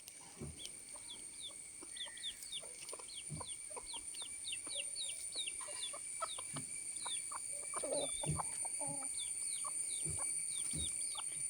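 Hens on a farm cluck repeatedly at a moderate distance, short, quiet calls scattered across the clip, while small birds chirp steadily high in the background.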